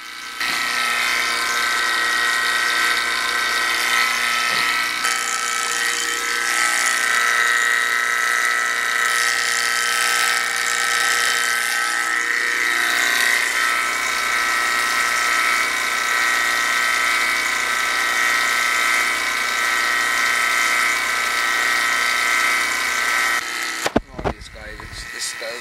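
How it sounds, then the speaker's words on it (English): An HVAC vacuum pump runs steadily, pulling vacuum on a new tank, with a constant dense hum and whine that carries on unchanged until a brief clatter and cutoff near the end. "that's why I had to pull this vacuum on it"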